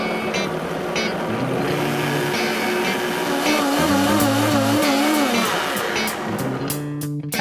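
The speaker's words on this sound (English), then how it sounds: "Go ahead and pop the top on your blender and give this a nice blend" A loud, continuous blender motor whir runs throughout, blending a vegan Caesar salad dressing, its pitch shifting as the machine churns, close up with no voices.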